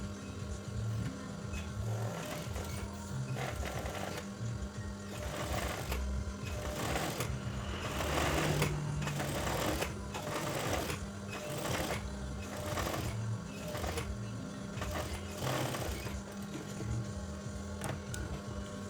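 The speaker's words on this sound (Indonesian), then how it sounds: "Langkah selanjutnya kita jahit bagian kaki kerahnya satu sepatu ya" A sewing machine stitches the stand of a shirt collar in repeated bursts of rapid mechanical chatter, pausing briefly between runs, close and fairly loud.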